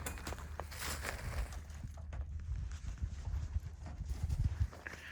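Draft horses, a mare and old Dan, walk on forest ground while skidding logs in a horse-logging job, their hooves giving a steady, close clip-clop amid rustling and dragging noise.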